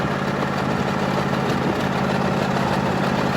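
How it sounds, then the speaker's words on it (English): A tractor engine idles steadily and close by on a farm in August, a continuous low rumble with a faint harmonic hum that holds without change. "I am on the tractor"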